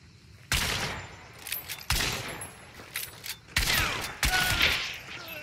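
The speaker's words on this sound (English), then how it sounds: "That's a shotgun" Shotgun blasts in Hunt: Showdown, several loud booming reports at uneven intervals, each with a short echoing tail, close and alone.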